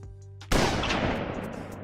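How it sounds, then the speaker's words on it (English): A single Halo 2 sniper rifle shot cracks out loud and sharp after a quiet tonal lead-in, then trails off in a long, fading echo. "You found the origins of the sniper rifle sound too?"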